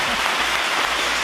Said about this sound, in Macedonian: ве молам еден огромен аплауз